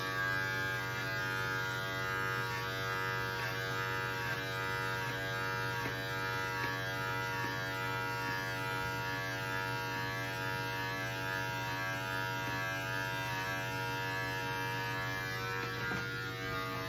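Electric hair clippers drone steadily and close up throughout a self-haircut, a constant even buzz with no pauses and no speech.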